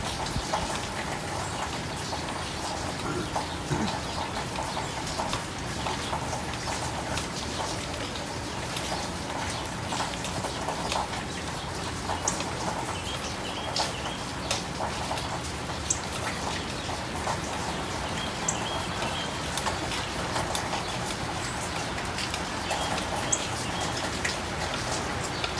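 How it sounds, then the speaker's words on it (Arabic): Steady rain falls outside a home, a dense continuous patter of drops on surfaces throughout, with faint birds calling in the background. "صوت المطر ما شاء الله."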